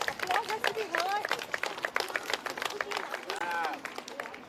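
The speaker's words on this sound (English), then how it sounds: "A round of applause for our new school council." Scattered clapping from a school audience at an investiture ceremony welcoming the new student council, steady and moderate under overlapping talk and crowd chatter.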